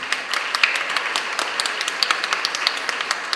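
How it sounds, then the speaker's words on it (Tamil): Applause from an audience at a Tamil political speech, a steady wash of many hands clapping at moderate level for a few seconds, with no talk over it. "நல்லா கைதட்டு."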